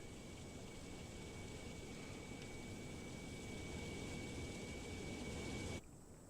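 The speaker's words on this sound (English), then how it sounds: "when other airplanes are pushing back and starting up, you can hear them starting engines" Jet engines of other airplanes start up in Microsoft Flight Simulator, a steady broadband roar with a thin high whine, constant and fairly loud before cutting off abruptly near the end.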